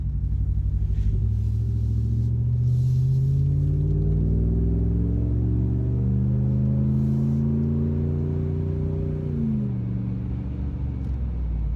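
An engine fitted with a Carven Progressive exhaust accelerates from about 25 mph out of a roundabout to 51 mph on a straight road, its steady loud drone rising in pitch through the gears before easing off near the end.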